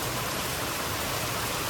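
Steady, loud rain falls continuously with a dense, even hiss, no pauses or voices over it.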